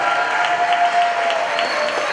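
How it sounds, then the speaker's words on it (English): School music department concert audience giving a round of applause, a steady dense wash of many hands clapping at close range with light crowd murmur, continuous throughout. "A round of applause for our slapstick people."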